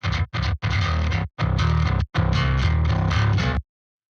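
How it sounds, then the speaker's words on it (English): Electric bass run through Decapitator plugin distortion, playing several loud, gritty phrases separated by short gaps before stopping abruptly into silence. "we can dial in the right amount of distortion so that we keep some of the clean bass there"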